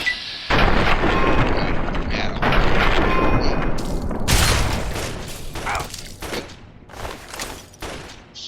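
Assault rifle fire in Fallout 3 rattles out in loud repeated bursts, with sharp cracks and booming reports that come in clusters and fade between volleys.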